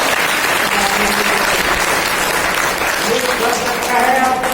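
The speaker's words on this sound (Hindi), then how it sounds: "ताली बजाइए उस प्रभु के लिए।" A church congregation at a Hindi sermon claps steadily and densely for several seconds, sustained applause filling the hall while a voice speaks faintly beneath it.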